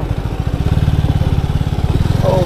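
A motorcycle engine idles close by with a steady, rapid thumping pulse on a village road near a temple entrance, loud and even throughout with no speech.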